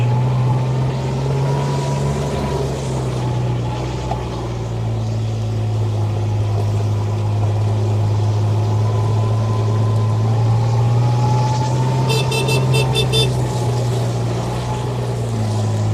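A 2017 Kubota RTV-X900 utility vehicle drives along in high range with a steady, close engine drone and low rumble holding evenly throughout, with no talk over it.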